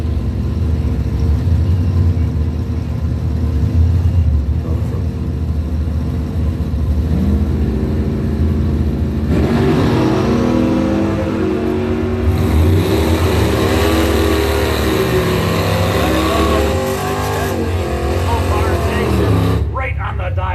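A 1967 Plymouth Belvedere drag car revs and roars down the strip at a drag race, the loud engine sound building under continuous announcer commentary.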